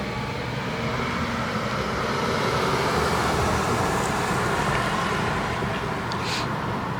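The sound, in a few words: security vehicle driving past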